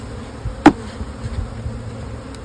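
Honey bees buzz around an open hive, a faint continuous hum close by with a sharp tap partway through.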